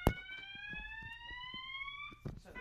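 An alarm sounds on a boat as a steady, loud electronic tone that rises slightly in pitch, with clicks and a few knocks around it.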